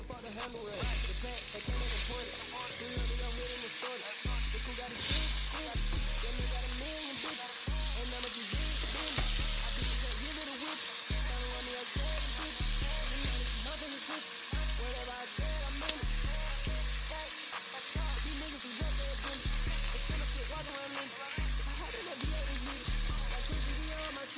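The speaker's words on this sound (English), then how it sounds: "Here I'm just sauteing my vegetables" Vegetables sauté with garlic in a hot pan, a continuous loud sizzle punctuated by a regular rhythmic thumping of the pan or utensil being worked back and forth, with no voices over it.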